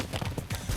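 Lusitano horse hooves clip-clop in a quick steady rhythm, loud and fairly close, with a busy outdoor wash behind them and no clear talking.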